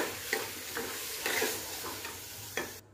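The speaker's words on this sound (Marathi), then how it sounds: "आता इथे तांदूळ मिक्स करून घ्यायचे बघा फोडणीमध्ये।" Rice and dal stirred into a sizzling spice tempering for kadhi khichdi, a steady frying hiss with repeated scraping strokes of the spoon, close and with no one talking.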